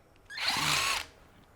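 Power tool undoing the drain bolt on a Borg-Warner differential in a garage, a single short whirring burst of about a second, close and fairly loud against quiet.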